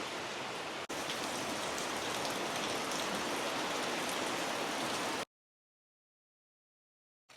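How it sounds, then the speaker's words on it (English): Steady rain falls outdoors during a cross-country road trip, a dense continuous hiss for about five seconds with a brief dip near the start, then cutting to silence. "She's raining now."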